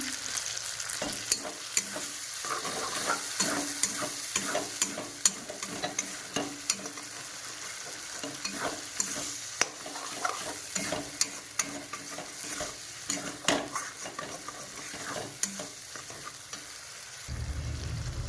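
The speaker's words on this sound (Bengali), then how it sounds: "আমার চিকেনটাকে কষানো ভাজাও ভাজা হয়ে গেছে" Chicken pieces fried in a pan are stirred repeatedly, with close, uneven scrapes and clacks of a utensil over a steady sizzle, continuing for a long stretch before a dull thump near the end.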